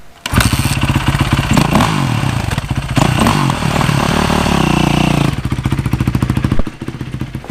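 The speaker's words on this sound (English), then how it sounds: "the exhaust popping on deceleration. Pop, pop, pop. And sometimes when I rev it." A Yamaha YZ450 dirt bike engine running close and loud, a sustained throbbing roar for about five seconds that then drops to a choppy, popping idle, with no speech.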